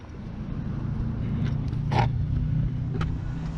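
Audi S3 8L with its exhaust centre box removed, a low steady engine and exhaust drone idling close by, with a faint scrape or click now and then and no talk.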